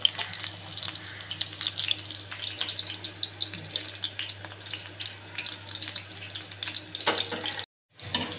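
Onion pakoras frying in hot oil, a continuous bubbling hiss with small pops, fairly close and steady before a brief dropout near the end.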